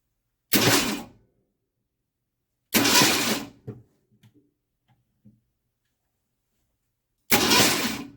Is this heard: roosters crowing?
no